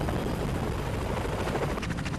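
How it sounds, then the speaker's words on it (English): Military helicopter landing at a desert helipad where purple smoke marks the landing spot for evacuating wounded troops; a steady, loud rotor and engine roar fills the whole stretch with no voices. "Purple smoke marks the spot where the chopper must land, to take the wounded to one of several military hospitals in the area"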